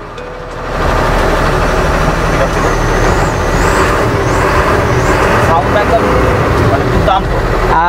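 A second-hand Tata 4825c BS3 truck's diesel engine runs at a steady, close, loud idle, with a faint hiss and some brief background sounds over the constant rumble.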